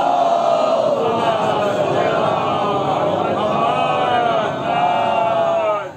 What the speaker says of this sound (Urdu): بلندرین نعرے صلوات بھیجتے محمد